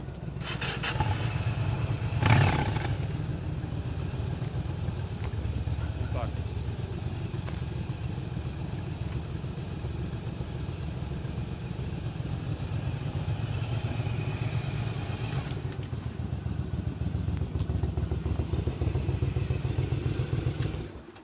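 A Yamaha Drag Star 1100 motorcycle idles with its exhaust running in a low, steady rumble, close by, with a brief louder knock early on and no talking.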